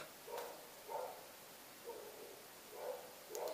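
A female dog barks five times at uneven intervals, short muffled woofs heard from a little distance over a steady hiss of background noise, with no talking.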